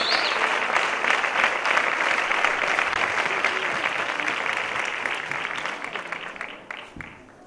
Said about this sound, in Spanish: Ese aplauso para él.